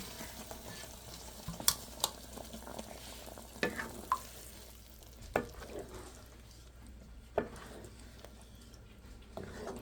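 Boiled mung dal is poured over a fried rohu fish head in a pan and stirred, giving a soft continuous sizzle broken by several sharp spoon-against-pan clinks and scrapes.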